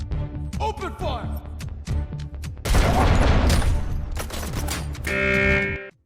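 Rapid bursts of gunfire in the RoboCop Rogue City video game, loud dense volleys with booming hits running throughout, a voice shouting in the middle, ending in a sustained tonal electronic sound.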